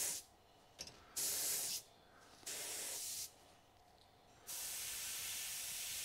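An airbrush sprays Trident airbrush paint, pink mixed from white and red, in three close bursts of steady hissing that separate short pauses, the last burst continuing to the end, with no voices.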